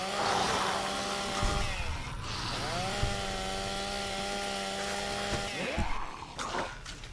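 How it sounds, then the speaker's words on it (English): Ripper chainsaw in the game Fallout: New Vegas runs continuously with a loud buzzing whine, its pitch dipping and surging several times as it revs. "My chainsaw stopped making noise."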